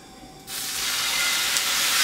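Orange juice poured into a pan of hot caramel for flambéed bananas hits with a sudden loud hiss and sizzle that swells and holds steadily to the end.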